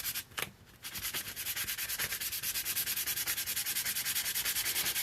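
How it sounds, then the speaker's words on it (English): A ceramic mug is sanded with steady, rapid back-and-forth scratchy strokes that keep an even rhythm at close range, with no talking. "We're going to go ahead and give the mug a good sanding."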